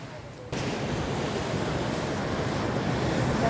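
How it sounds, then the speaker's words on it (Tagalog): Strong ocean waves crash on a Quezon shoreline in a loud, steady roar that swells abruptly after a brief quieter start, mixed with wind noise on the microphone. "Lakas ng alon."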